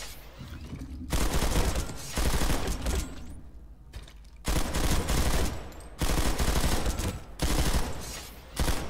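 Rapid automatic gunfire in the shooter game Planetside 2, loud and close, coming in long sustained bursts separated by brief pauses.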